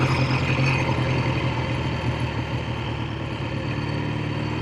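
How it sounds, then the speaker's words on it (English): A 1965 Triumph T100 SR motorcycle engine runs steadily, a close, constant mechanical drone with an even pulsing beat and no voices. "The motor runs very well, I'll give it that for sure."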